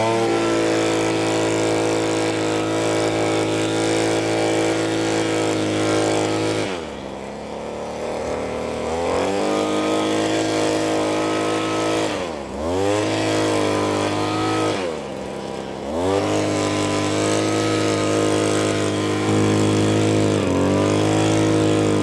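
A McCulloch Airstream IV two-stroke leaf blower runs loud and close, holding a steady buzzing drone with several brief throttle dips and recoveries across the span.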